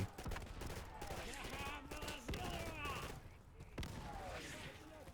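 Suppressive gunfire in the World War II shooter Easy Red 2 during a Stalingrad battle, a dense, continuous crackle of rifle and machine-gun shots with sharp near bursts over distant fire, and a voice talking in places.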